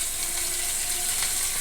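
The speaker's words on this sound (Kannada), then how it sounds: "ಸ್ವಲ್ಪ ಕರಿಬೇವು" Curry leaves crackle in hot oil for a tempering for bread upma, a dense continuous sizzle with a faint tonal hum underneath, close and even in level throughout, without any speech.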